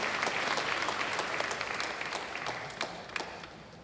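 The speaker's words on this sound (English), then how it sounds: "Please give them a tremendous round of applause." Sustained applause from a convocation audience at the University of Guyana, dense steady clapping filling the hall and gradually thinning toward the end, with no talk over it.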